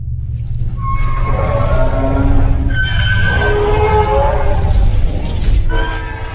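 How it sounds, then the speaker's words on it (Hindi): Cartoon train at midnight with a loud rumbling run and wailing whistle-like horn tones rising and falling over a steady low rolling drone, continuous and close. "तभी आधी रात को एक बार फिर से ट्रेन की आवाज आने लगती है।"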